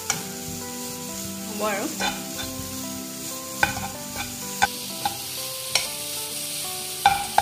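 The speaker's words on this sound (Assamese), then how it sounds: "নাৰিকল আৰু চেনিখিনি ভজা অলপ সময় হৈছে" Grated coconut and sugar fry together in a pan for sweet coconut balls, with a low sizzle, repeated scraping and clinks of a spoon against the pan, and a short spoken phrase from a woman over it.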